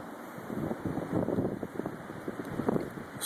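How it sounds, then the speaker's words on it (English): A 2011 blizzard in Lake Zurich sends wind blowing snow in rough, gusty blasts that buffet the microphone with a low, uneven roar throughout. "Snow is blowing big time."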